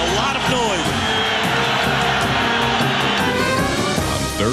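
Fans at Qualcomm Stadium roar and wave rally towels during a 2004 AFC Wild Card NFL game between the Jets and Chargers; the dense crowd noise is loud and sustained, with an announcer talking over it.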